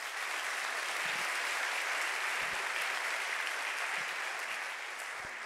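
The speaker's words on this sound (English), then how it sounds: "Please give them a huge round of applause." Steady audience applause fills a hall at a school honors recognition ceremony, dense and continuous, tapering slightly at the end.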